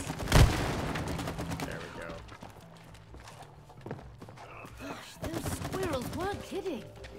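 Gunfire in the It Takes Two video game, with a loud shot near the start followed by scattered crackling impacts and game effects under ongoing speech and music-like tones.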